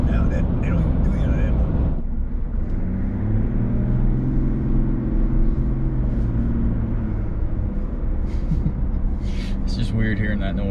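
A diesel pickup truck engine runs with a deep, steady droning rumble heard from inside the cab, with people talking over it.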